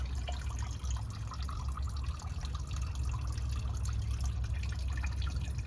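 Diesel fuel splashes into a bucket during a fuel filter replacement on a 2024 Ford F-250 with the 6.7L Powerstroke diesel, a steady close liquid spatter and trickle with a low rumble under it, without pause and with no talk.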